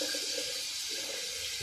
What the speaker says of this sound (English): my faucet's a little loud